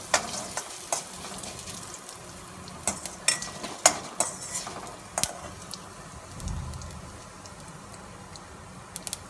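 Curry leaves and hing sauté in a pan for a dal dish, giving a soft steady sizzle broken by scattered ticks and light stirring clicks, with no voices.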